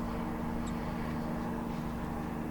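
Powered hang glider flying over, a steady droning engine hum that holds level throughout, moderately loud at a distance.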